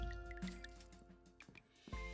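Plants are watered in the video game Lemoncake, with soft, quiet dripping and liquid splashes over a faint low game background, with no talk.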